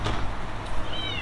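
A cat gives a short, close meow, rising and then falling in a single brief call, at a street köfte stall in Turkey.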